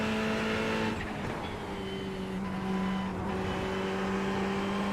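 A Ferrari race car engine in the iRacing sim at Snetterton drones loudly and steadily, with quick upshifts briefly dipping the tone around the first and third seconds before the pitch climbs again.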